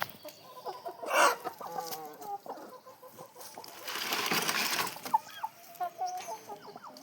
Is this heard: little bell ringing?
no